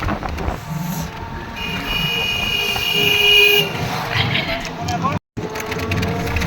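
Train at Prantik railway station, a loud rumbling rail car with screeching wheel squeal and a ringing tone that rise and fade, a voice speaking over it, and a brief dropout near the end.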